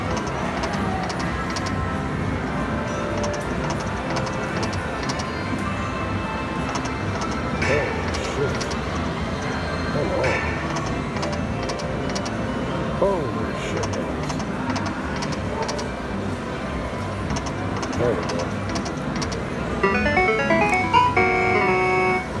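A Polar Ice slot machine at Kewadin Casino spins through a free-spin bonus, playing a steady jingly electronic melody with chiming tones that brighten near the end, while a voice talks over it.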